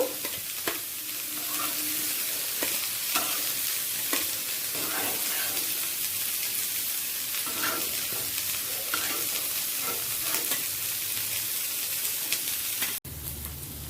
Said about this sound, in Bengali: বেগুনেরও দু পিঠ ভাজা হয়ে গেছে এবার তুলে নেব